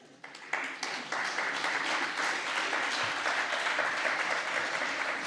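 Broad applause from a lecture audience fills the room, steady dense clapping that swells in within the first second and holds at an even level to the end.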